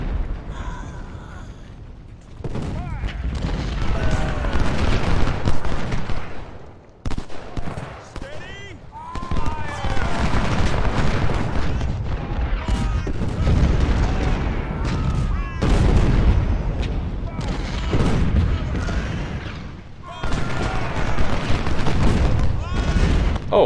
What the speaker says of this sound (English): Oh, another cannon.